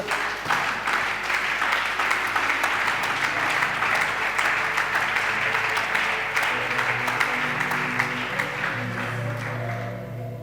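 A church congregation bursts into sustained, dense applause, loud and close, rising into steady clapping that slowly thins toward the end, with a faint murmur of voices beneath.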